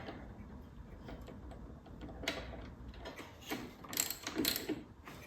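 A ratchet fitted with a 3/8 socket tightens a lawnmower part, giving quick mechanical clicks in short bursts that grow louder toward the end, close up.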